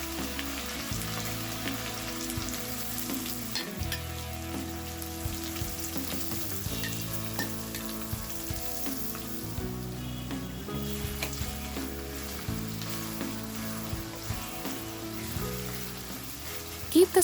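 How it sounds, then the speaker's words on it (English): Finely chopped onions and green chilies sizzle and crackle steadily in a pan over medium heat, with occasional stirring scrapes. Faint music plays underneath throughout. "Keep the flame on medium and saute the onions until they turn golden brown, stirring at regular intervals to avoid burning."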